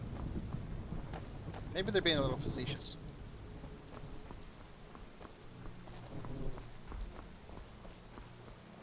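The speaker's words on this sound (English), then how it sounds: "it's currently in the middle of a thunderstorm" Thunderstorm weather in the game Skyrim SE, with a steady hiss of falling rain throughout and a soft low rumble, heard under someone talking.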